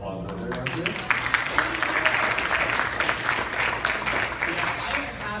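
Applause from a convention audience at a StocktonCon Q&A session, a moderate wave of clapping that rises and then fades, with voices chatting underneath.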